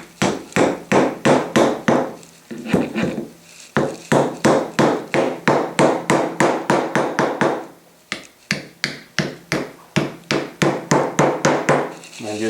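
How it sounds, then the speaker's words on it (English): A small ball peen hammer taps nails back into the wooden box of a Model T ignition coil, dozens of quick, sharp, close knocks in steady bursts with brief pauses between runs. "Take your little ball peen hammer,"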